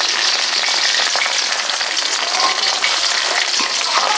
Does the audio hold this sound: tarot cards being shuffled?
no